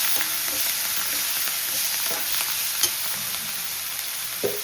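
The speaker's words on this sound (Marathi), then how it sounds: "आणि आता मी टाकून घेणार आहे मीठ की जेणेकरून जे आपला टोमॅटो आहे ते एकदम विरघळते आणि मिठाने भाजल्या जाते" Tomatoes frying with salt in a pan for a spicy gram-flour (besan) dish, a steady close sizzle running throughout with occasional faint stirring clicks and no talking.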